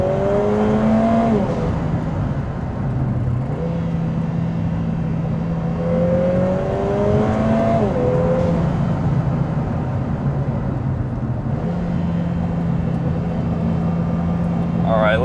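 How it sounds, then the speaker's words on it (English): Lotus Emira Turbo with an AMG four-cylinder and dual-clutch gearbox accelerating up a canyon road, engine note rising and falling through several quick upshifts, heard from inside the cabin with a voice talking over it. "if only for the exhaust noise"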